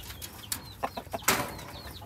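Chickens in a homemade backyard coop give a few short clucks and bird calls, with some rustling and a brief wing flutter, fairly close and without talk.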